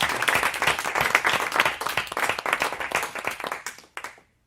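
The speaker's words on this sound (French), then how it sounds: "Allez, on s'applaudit tous." A group of adults in an entrepreneurship training session bursts into dense, lively hand-clapping that holds steady for about four seconds, then stops abruptly into silence.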